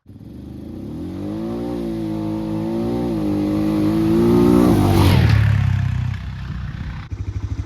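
Honda ATV accelerating across gravel in a timed speed test, engine climbing steadily in pitch and loudness, then a sharp shift-like drop with a burst of gravel clatter and pulsing idle at the end.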